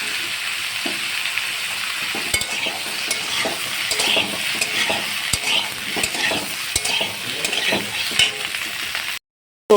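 Vegetables and beans fry briskly in oil in a wok, a steady sizzle with repeated scraping and stirring clatters of a spatula, close and continuous throughout with no voices.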